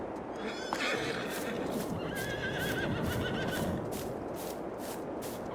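Horses in Farming Simulator 22 neigh over a steady rhythm of clip-clopping hooves, with a shrill whinny rising near the start and more calls following.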